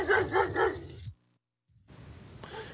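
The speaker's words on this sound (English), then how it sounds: "So this is a barking Doberman." A Doberman barks several times in quick succession, loud and close, then the sound cuts to near silence before faint background noise returns.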